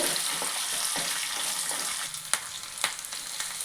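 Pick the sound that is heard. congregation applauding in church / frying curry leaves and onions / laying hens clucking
frying curry leaves and onions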